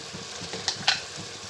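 Aloo gosht frying in ghee with red chili powder, a soft continuous sizzle with a couple of brief sharper crackles as it is stirred.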